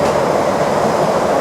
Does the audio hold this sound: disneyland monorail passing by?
yes